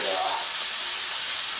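Hash browns hitting a hot buttered Blackstone griddle, giving off a steady, close, broadband sizzle that holds level throughout with no talk over it.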